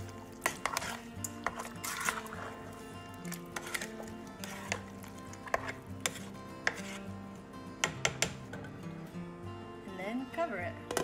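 Stewed tomatoes are stirred in a pot, with a series of irregular spoon clinks and knocks against the pot's sides, moderately quiet, heard alongside a talking voice.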